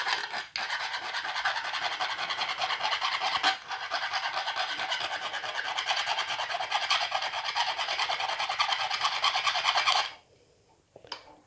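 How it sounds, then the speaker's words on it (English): A hand file rasps steadily across a small metal part to take off burrs, close and continuous with a brief pause partway, then stops near the end. "I'm just going to file this off"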